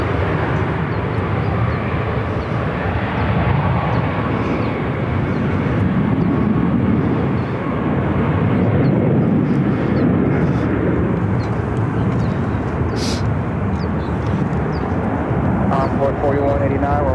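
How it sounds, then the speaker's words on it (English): An American Airlines Airbus A321 lands at Phoenix airport, its engines producing a loud, continuous broadband roar that swells and eases slightly across the whole stretch. "This American flight's coming in from San Diego."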